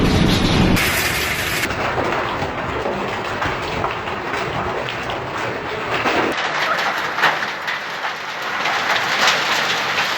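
Heavy rain pours steadily onto surfaces during a hailstorm in Argentina, a dense, even roar lasting throughout, with pigeons cooing faintly beneath it.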